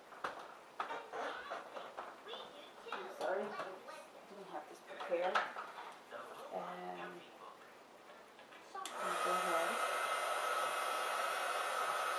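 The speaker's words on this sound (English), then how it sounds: "So let me come back with my heating tool." Heat tool switches on after a stretch of talking and clatter, then blows with a loud, steady whooshing roar while drying craft paint.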